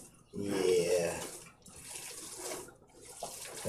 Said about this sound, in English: add a little bit of hot water